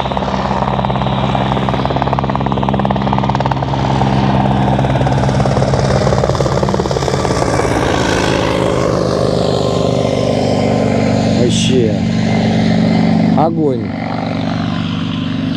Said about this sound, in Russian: Пятиместный самодельный вертолет.